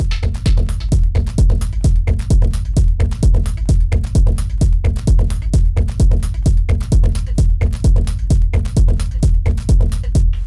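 Short, clipped percussive hits sampled from a London Metro recording and played on a Digitakt with low end filtered out: a fast, steady stream of loud, dry noisy ticks repeating evenly for about ten seconds.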